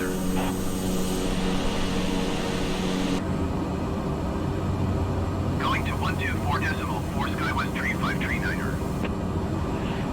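Steady propeller aircraft engine drone in Microsoft Flight Simulator 2020, a continuous hum with tonal layers holding throughout, with a shift in the engine tone partway through and brief chirpy electronic tones in the middle.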